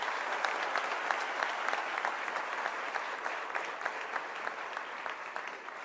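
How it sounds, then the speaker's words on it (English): A large audience claps steadily at a Teacher's Day event for Gautam Adani, a dense, even wash of applause sustained throughout at moderate volume with no voices rising above it. "May we have another big round of applause for Mr."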